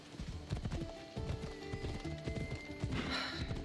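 Steady clip-clop of horse hooves trotting at a brisk, even rhythm in the video game Assassin's Creed Odyssey, with a brief whinny near the end over soft ambient background.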